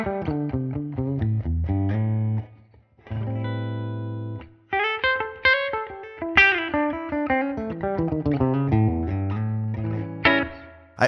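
An electric guitar plays through a cranked Fender-style amp with a clean tone, light compression and reverb, in a lively run of picked notes and chords with a short sustained chord midway.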